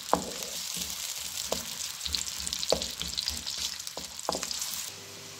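Chopped onions sizzle steadily in hot oil for a keema, with several soft stirring scrapes of a spoon through the pan, close and fairly loud with no talk.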